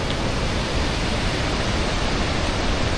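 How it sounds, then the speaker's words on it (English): Rushing water from a waterfall in Croatia, heard from behind the falls, makes a dense, constant broadband roar with no breaks or other sounds. "As promised, here's the back of the waterfall."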